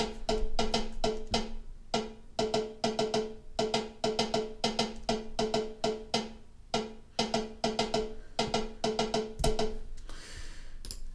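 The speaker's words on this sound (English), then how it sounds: "part one is our sort of lead drummer part" A drum pattern of sharp, ringing hits played alone in a lively, syncopated rhythm with repeated quick clusters, loud and close, ending in a short roll.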